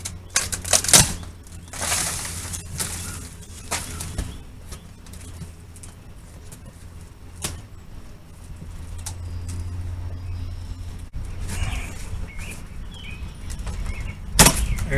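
Old trim being pried and torn out of a bay window frame during a repair, with scattered cracks, scrapes and knocks at irregular intervals over a low background hum, louder bursts near the start and end.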